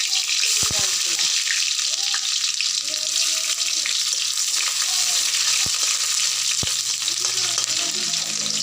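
Onions sizzle in hot oil in a pan seasoned with cumin and bay leaf, a loud, steady frying hiss with a few sharp spoon clicks, while a voice talks softly underneath.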